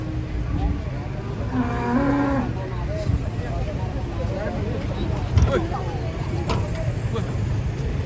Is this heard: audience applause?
no